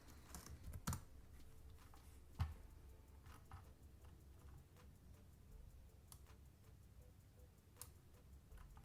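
Someone types on a computer keyboard in a very quiet room, with a few scattered soft key clicks and a couple of louder taps. Nobody talks.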